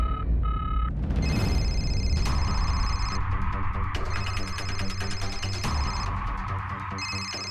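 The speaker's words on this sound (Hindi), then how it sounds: "किसी का फोन आ रहा है।" A phone rings with a steady electronic tone over a low throbbing hum, continuous and fairly loud without any talking.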